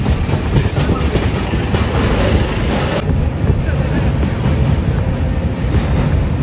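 Passenger train running on rails out of Dakshineswar near Kolkata, a loud steady rumble and clatter heard from inside with wind buffeting throughout.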